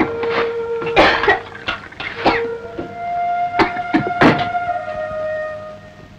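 A man in a Telugu family drama film scene gives several harsh coughs in uneven bursts. The coughs are close, and a steady tone plays beneath them.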